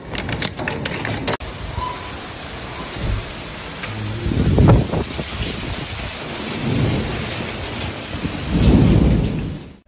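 A thunderstorm with hail and rain in Texas, heavy rain hissing and drumming on surfaces while deep rumbles of thunder swell and fade twice, loud and close.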